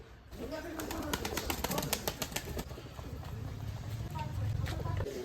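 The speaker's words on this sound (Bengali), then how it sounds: "এই পায়রাগুলো আস্তে আস্তে এখন কাছে গেলেও উড়ে না এর আগে কিন্তু উড়তো সুন্দর খাচ্ছে এরা" Pigeons feed close by in a home yard, making soft pecking taps, light rustles and brief wing flutters at close range, with faint voices in the background.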